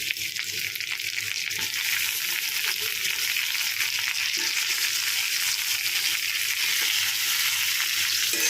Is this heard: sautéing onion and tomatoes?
yes